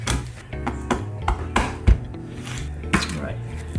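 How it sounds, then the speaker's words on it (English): A knife splits a fish head for simmering on a hard board, with several sharp knocks and cracks amid scraping and clattering kitchen sounds, close up, with no talking. "Split the head."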